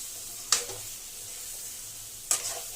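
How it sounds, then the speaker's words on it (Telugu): Ginger garlic paste frying with chicken liver in a pan, with two short sizzling bursts, likely from stirring, over a quiet, steady background hiss. "లివర్ కూడా చూడండి అల్లం వెల్లుల్లి పేస్ట్ కూడా బాగా ఫ్రై అవుతుంది"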